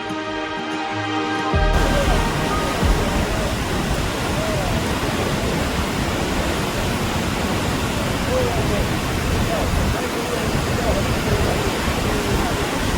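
Rupse Waterfall in Annapurna Rural Municipality, Nepal, a loud, dense, steady roar of falling water that takes over abruptly after a short quieter musical opening and continues unbroken.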